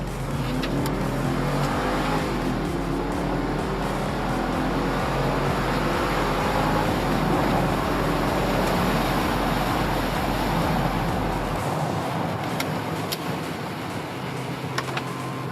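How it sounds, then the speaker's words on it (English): A car accelerates hard on an open road, its engine pulling steadily and loudly up through the revs for several seconds with road and wind noise, then easing off near the end. "the main reason I bought this car is so that when I want to, I can get on the road and I can do a little bit of this"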